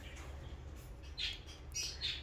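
Pet birds indoors give a few short high chirps and squawks over a steady low household hum, fairly close but not loud, with no talking.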